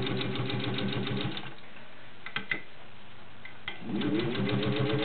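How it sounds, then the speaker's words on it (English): A gear-driven Singer 201-2 sewing machine stitches through thick fabric with a dense, fast mechanical whir. It pauses with a few clicks and small knocks, then starts up again near the end. "It does slow down just a little because it is pulling the fabric through."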